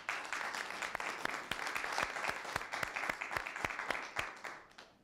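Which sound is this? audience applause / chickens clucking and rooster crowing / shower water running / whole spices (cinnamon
audience applause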